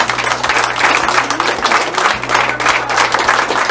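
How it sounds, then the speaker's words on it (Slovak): Loud, dense applause from a crowd at the opening ceremony of a sports tournament, greeting a brand-new player; steady continuous clapping fills the whole stretch without pause. "A dnes úplne nováčik, obrovský potlesk pre neho, Kristian Mrva."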